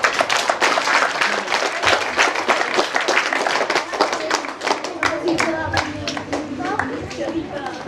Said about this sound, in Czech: Takže si můžeme zatleskat ještě.